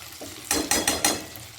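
Spices with Kashmiri red chili sauté in a pan, making a soft sizzle broken by three or four loud, close scrapes and knocks of a spoon against the pan.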